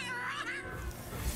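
A cat card meows in Legends of Runeterra, a short drawn-out mew rising and falling over game music, loud and close with no talk.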